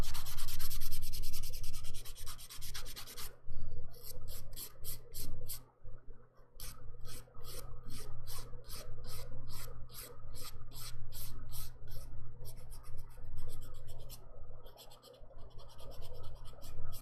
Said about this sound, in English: buffing is usually the most boring part of a manicure